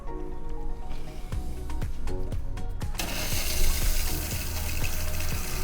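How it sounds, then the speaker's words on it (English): Water pours from a tap onto a sponge in a sink, beginning with scattered drips and light squishes, then a sudden steady rush of running water that continues close and loud to the end. "You're going to wet your sponge."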